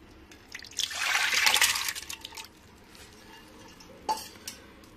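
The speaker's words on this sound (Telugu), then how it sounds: "పప్పు వేసాను, ఇవి కూడా వేసేస్తున్నాను." Toor dal, green chillies and onion tipped into a cooking pot for a raw mango dal curry, giving a wet pouring rush with splashes, then a few separate light drops and clinks near the end.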